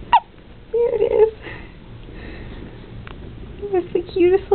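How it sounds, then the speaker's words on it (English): A baby boy hiccuping for the first time, with small, soft hiccups close by, heard under adult voices talking. "he has the hiccups right now for the first time"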